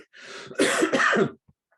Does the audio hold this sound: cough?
yes